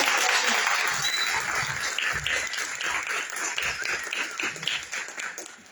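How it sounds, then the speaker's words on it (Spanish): At a public forum on universal accessibility and the right to water, an audience applauds a doctor's participation with a sustained round of clapping that is loud at first and gradually thins out. "damos un fuerte aplauso por su participación"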